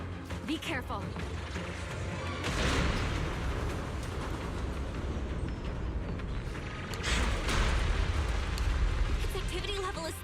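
A cocoon in the video game Zenless Zone Zero lets off explosions. Two heavy, drawn-out blasts swell up about four seconds apart over a constant rumbling din, loud and close.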